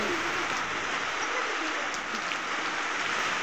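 Heavy rain lashes down on a farm in blustery wind, an unbroken loud hiss of pouring water with no talking, steady from start to finish.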